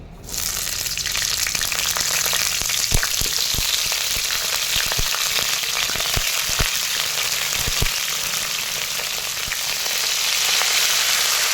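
Cauliflower frying in a small amount of hot mustard oil in a wok, a steady close sizzle running throughout with occasional sharp clicks and spatters, no talking.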